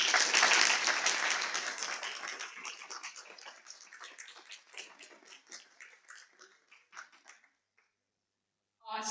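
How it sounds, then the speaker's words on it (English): Audience applause at a TEDx Georgia Tech salon talk, loud at first and then thinning to scattered claps before going quiet, with a brief burst at the very end. "Round of applause again"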